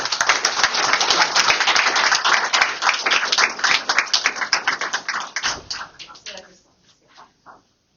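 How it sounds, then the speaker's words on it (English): An audience at a lecture event claps in sustained, dense applause that tapers off over several seconds into scattered final claps. "Let's give them a round of applause"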